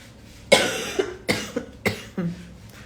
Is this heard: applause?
no